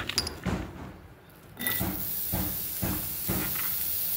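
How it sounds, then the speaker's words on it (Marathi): Onion fries in a little oil in a home kitchen, a soft steady sizzle that swells after a quiet start, with a few rhythmic scraping stirs punctuating the hiss. "थोड्याशा तेलावरती आपल्याला कांदा भाजून घ्यायचा आहे"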